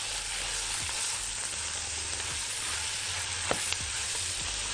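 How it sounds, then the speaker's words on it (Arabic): Turmeric and peppers sauté in a hot pan for a Gulf-style rice with turkey, giving a steady, close sizzle broken by occasional scraping stirs, with no talking. "حطيت الكركم والكركم اخد التشويحه بتاعته، اقدر احط الفلفل ياخد برضو التشويحه بتاعته"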